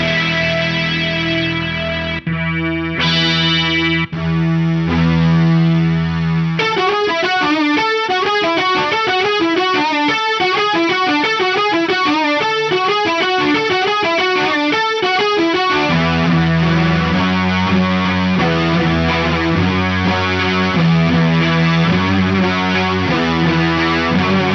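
A Boss SY-1 synth pedal plays a random variation patch, giving loud, distorted synthesized guitar tones with rapid, pulsing arpeggiated notes through the middle, then shifting into choppier chordal stabs, with no talking.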